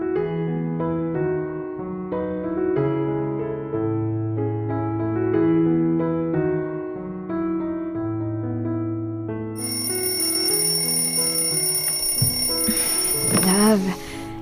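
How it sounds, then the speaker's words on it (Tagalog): An alarm tone plays a repeating melodic ringtone pattern, loud and close, then shifts into a brighter electronic ringing at the end, with a bit of stirring noise near the close. "Mahal, yung alarm mo, patayin mo muna."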